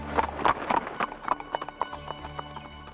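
Horse hooves clip-clop at a steady trotting rhythm as a horse-drawn tanga cart arrives, fairly close and clear, with no voices over the hoofbeats.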